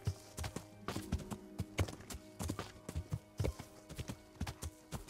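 Horse hooves clip-clop in a steady walking rhythm through a forest in Kingdom Come: Deliverance, moderately close and alone without talk.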